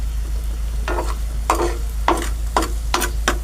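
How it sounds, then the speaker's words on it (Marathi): Onion sautés in a pan over a weak, low gas flame, with a soft background sizzle and five or six rhythmic stirring scrapes spaced about half a second apart, close by, with no talking. "कांदा आपण परतून घेऊया त्याच्यावर"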